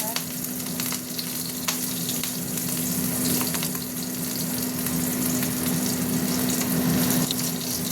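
Slit green chillies and a little sugar frying in hot oil, a dense continuous close sizzle with faint stirring, over a low steady hum and no talk.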